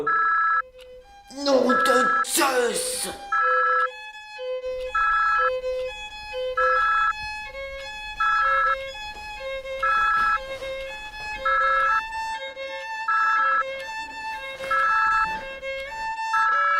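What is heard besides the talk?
telephone ringing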